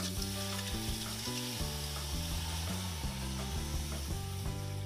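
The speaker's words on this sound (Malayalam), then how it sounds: "അപ്പോൾ ഉരുളി ഏകദേശം ചൂടായിട്ട് ഇതിലേക്ക് നമ്മൾ കുറച്ച് നല്ല വെള്ളം നമുക്ക് ഒഴിച്ചു കൊടുക്കാം" Water hisses and sizzles as it is poured into a heated bronze uruli pot while a pumpkin dessert is prepared, a steady close crackle running under loud melodic background music.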